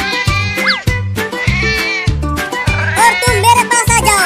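Kittens meow in quick repeated bursts, close and loud, with high rising and falling cries overlapping a steady low hum beneath them.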